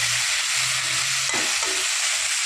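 Eggplant and fenugreek greens fry in a pan with a steady broadband sizzle and a few brief stirring scrapes near the middle. No one speaks.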